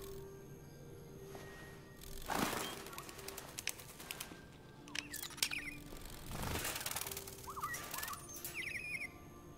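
Flapping wings and bird calls from the game Detroit: Become Human, where the birds are androids: two loud whooshing bursts of flapping a few seconds apart, with scattered chirps and tweets between them and at the end.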